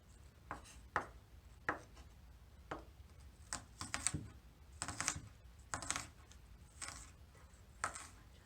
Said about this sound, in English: Do some small bite-sized slices.